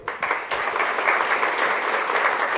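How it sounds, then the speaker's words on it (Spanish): Steady applause from a seated audience greets a guest at a public forum on higher education, a dense continuous clatter of many hands at even loudness with no talk. "Roberto Rodríguez, para quien pido un aplauso."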